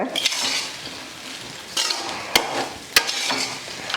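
A spatula stirs and mixes radish rice in a pan, a soft continuous scraping broken by a few sharp clinks of metal against the pan.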